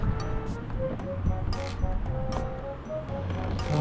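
Strong wind buffets the microphone at a seaside fishing spot, a continuous rough roar with waves washing beneath and faint tonal sounds drifting through.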